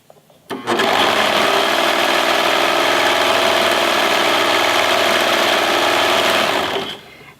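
A sewing machine runs one continuous steady stretch of stitching as it sews a rolled hem along the right side of the fabric, close and loud, starting abruptly and winding down at the end.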